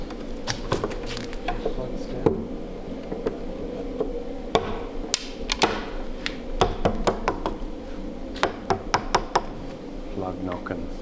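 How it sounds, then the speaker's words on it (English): A wooden plug is knocked into a DIY wooden sailboat hull with a series of sharp, close, irregular taps over a steady background hum. "Plug knocking."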